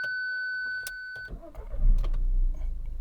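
A car engine cranks and starts after a brief electric whine, then settles into a steady, even idle close by; the car is on a used-car lot in Lutsk, Ukraine.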